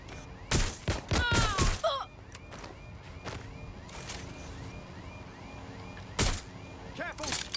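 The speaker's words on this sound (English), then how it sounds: "Shots fired!" Gunshots fired in a police shootout, several sharp loud cracks in quick bursts near the start and again later, mixed with shouted voices and radio-like chatter between them.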